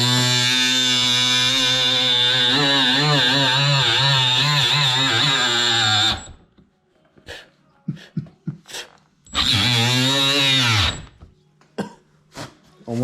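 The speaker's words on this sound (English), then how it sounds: "cutting the front bumper out" Power tool cutting out the fiberglass front bumper of a Ford Mustang: a loud, steady whine for about six seconds, then a second shorter cutting burst after a pause, with clunks and handling noises between.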